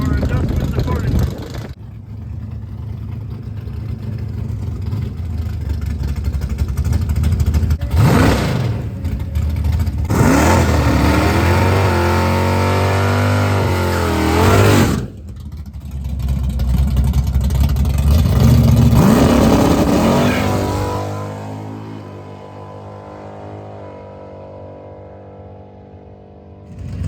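Plymouth Belvedere car on a test run at a drag strip, engine revving loud and close, then accelerating hard in rising surges with brief gear-change dips, fading away at the end.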